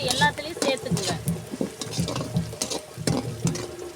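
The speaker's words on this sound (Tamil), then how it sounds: "வெங்காயம் இந்த அளவுக்கு வதங்கினதும் பூண்டு போட்டுக்கலாம்" Garlic dropped onto onions softening in a pan for Tamil-style fish curry, crackling and sizzling with rhythmic spoon stirs and scraping against the pan, close and steady, with brief voice in the background.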